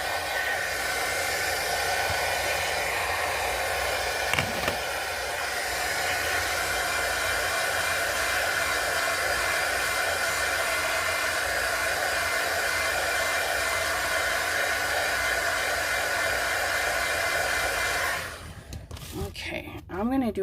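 Loud continuous blowing roar of a hot air heat tool warming stamping foam, steady for about eighteen seconds before switching off, with a person speaking over it.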